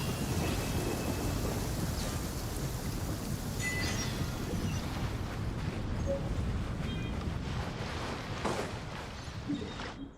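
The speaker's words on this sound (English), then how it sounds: "It's raining again?" Heavy rain pours steadily in the video game Genshin Impact, a dense hiss close and loud throughout, while low rolling thunder rumbles beneath it and swells briefly near the end.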